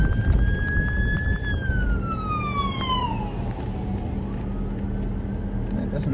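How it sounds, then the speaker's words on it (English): A police siren wails and slides downward in pitch, then fades, over loud traffic rumble and background noise. "2 different police cars there."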